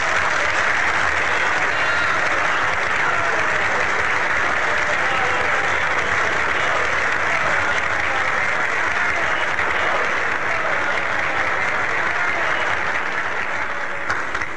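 Sustained audience applause from a large crowd at a speech, dense and steady for the whole stretch, loud and unbroken with no speech over it.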